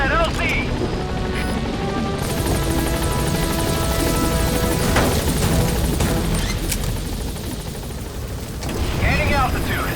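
Pequod, the transport helicopter from Metal Gear Solid V: The Phantom Pain, arrives at a landing zone with a loud, steady rotor drone through the whole stretch, swelling near the end, while a radio voice talks over it.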